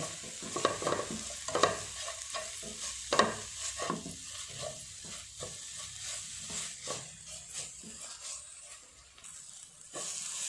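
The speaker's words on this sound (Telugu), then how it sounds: "అదేవిధంగా కొంచెం సాల్ట్ను కూడా వేసేసుకోవాలి వేసేసుకున్నాక ఇలా కలుపుకోవాలి" A spoon scrapes and stirs chilli masala with salt in a hot pan, soft sizzling underneath and irregular scraping strokes, fading quieter toward the end, close and fairly faint.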